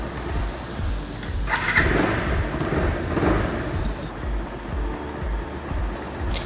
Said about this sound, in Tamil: ஸ்டார்ட் பண்ணி சும்மா ஒரு ரைடு போய் பார்க்கலாம்.